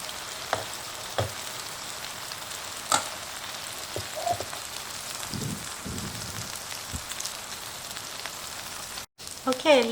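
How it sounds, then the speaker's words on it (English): Zucchini patties fry in a skillet of hot vegetable oil, giving a steady close sizzle and crackle with a few louder pops and spatters, continuous throughout with no speech. "fry both sides"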